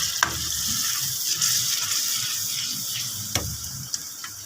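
Potato bhurji with onion, tomato and yogurt sizzles in a pan while a spoon stirs it, a steady close frying hiss broken by a few sharp scrapes and taps.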